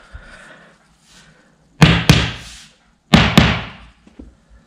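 Two pairs of sharp, heavy knocks, close and loud, of a hammer driving a wooden dowel into a Kullen chest of drawers during assembly, followed by a faint tap.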